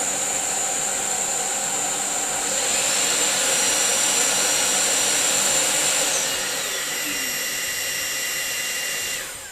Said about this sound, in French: il y en a vraiment un qui va être fait pour vider le bac à poussière de l'aspirateur robot